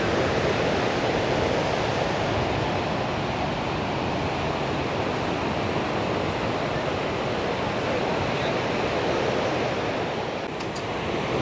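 Continuous roaring surf off Da Nang, Vietnam fills the whole stretch, a broad steady rush of breaking ocean waves with no pauses or voices.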